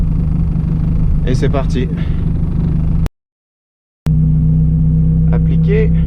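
A VW Golf 2 GTI 16V turbo engine starting and settling into a loud, steady close idle rumble, with a brief dropout partway through and someone speaking over it.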